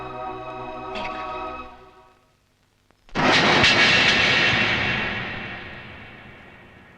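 An airplane departs overhead: after a soft tonal hum fades to near silence, a loud broadband roar bursts in abruptly, then slowly trails off as the aircraft draws away.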